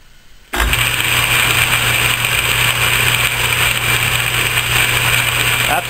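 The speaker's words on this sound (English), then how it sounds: "the lathe is working, and just to clarify, that gear was for E here, which is the lowest range" An Atlas metal lathe running in its lowest gear range with a freshly broached gear, starting abruptly and then whirring steadily with a constant mechanical drone and gear whine, close and loud, with no talk.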